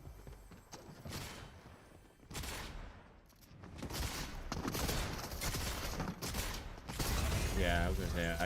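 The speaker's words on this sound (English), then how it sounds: "my weapon needed to reload" Weapon reload in the Fortnite video game, a run of mechanical clicks and ratcheting clacks layered over busy game noise, fairly loud and steady throughout.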